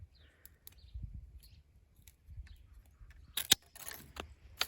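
Pruning shears cutting an elderberry stem for propagation, quiet handling rustles followed by a few crisp snips close up, no talk.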